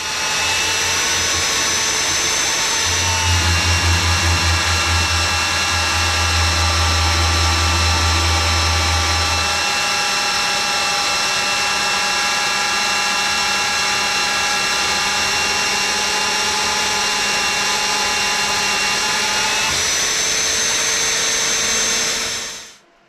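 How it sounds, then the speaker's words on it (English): A power drill bores a large air hole in metal in a metal shop, a loud continuous high whine with a heavy low grinding stretch early on, running steadily for over twenty seconds before cutting off abruptly. "But first I want to drill a big air hole right here"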